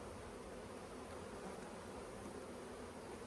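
Honeybees buzz in an open hive while a mated queen is introduced during a hive split, a close, steady, dense drone with no pauses and no talk.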